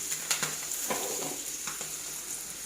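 Fish frying in a pan, a steady close sizzle with faint crackles and a few soft stirring clicks, with no talk over it.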